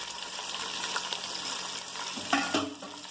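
Green chillies, chopped onions and curry leaves fry in hot oil with a steady, close sizzle, and a couple of sharper stirring scrapes near the end.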